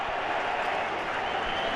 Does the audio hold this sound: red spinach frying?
no